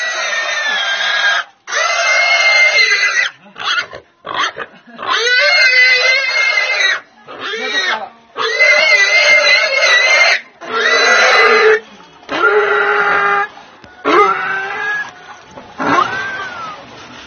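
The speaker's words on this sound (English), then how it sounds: "The men must slaughter and cut up the pig." A pig squeals loudly and repeatedly while being slaughtered at a rural Mosuo village, with long piercing bursts broken by brief gaps and no voices over it.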